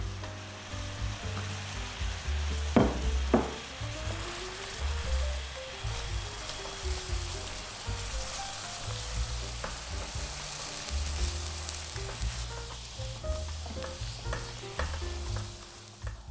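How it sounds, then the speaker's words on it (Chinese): Grape mooncake filling made with mashed potato and sugar is stir-fried in a pan, giving a continuous soft sizzle with repeated scraping and stirring strokes of the spatula, close and moderately quiet, with no talking. "这一步就要持续的不断翻炒，把材料里的水分靠干。"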